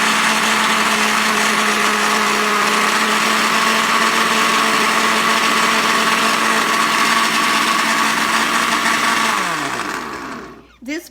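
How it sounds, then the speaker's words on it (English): A blender whirs steadily at full power while blending organic baby spinach for a breakfast drink, a loud continuous motor drone with a constant pitch that winds down and stops near the end. "it's very important that you blend in between adding each ingredient"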